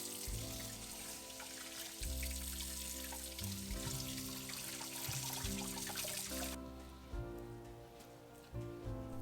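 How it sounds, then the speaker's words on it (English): A kitchen tap runs steadily while fish balls are rinsed thoroughly under the water, a soft, continuous splashing hiss heard over background music. "Rinse thoroughly."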